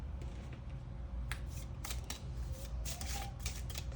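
Tarot cards drawn and slid from a deck, several quick papery flicks and rustles close by over a steady low background hum.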